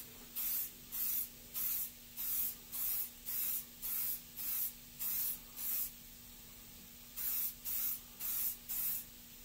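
A spray paint can hisses onto car wheels in about a dozen evenly spaced short bursts, close and loud, with a short pause before the last few passes and no talking.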